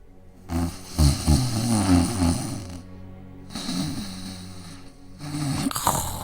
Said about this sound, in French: Le loup ronflait si fort qu'un chasseur qui passait par là l'entendit.